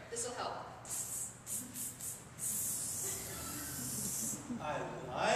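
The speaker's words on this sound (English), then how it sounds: "we have powerful spray misters" Several short hissing bursts from a spray mister releasing rose scent on a stage, followed by one longer sustained spray, with voices talking faintly under and around them.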